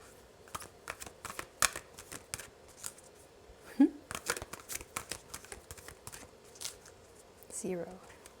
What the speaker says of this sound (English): I'm just going to shuffle it up real good.